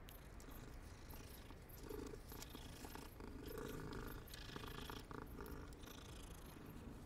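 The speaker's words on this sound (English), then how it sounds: "First, we must pet the kitty cat." A cat in the Hogwarts Legacy video game purrs steadily while being petted, a soft continuous rumbling purr with no talking.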